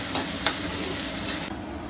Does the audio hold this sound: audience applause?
no